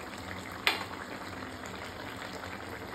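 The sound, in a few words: vegetables for sukto simmering uncovered as the water boils off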